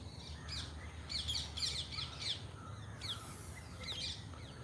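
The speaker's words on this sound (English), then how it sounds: "We've got lots of ringneck parakeets flying above us now." Ringneck parakeets call overhead above a cemetery in Colombo in the morning, several harsh, high squawking bursts coming in quick groups over a soft background hum.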